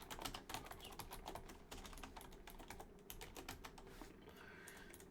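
Rapid, quiet clicking of a computer keyboard while C code is entered, with irregular clusters of keystrokes and brief pauses, close and soft, no one talking.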